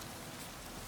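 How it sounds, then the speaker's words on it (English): Steady rain hiss in the video game Witcher 3, a dense continuous wash of drops with no distinct breaks, fairly quiet and even throughout. "It's still raining."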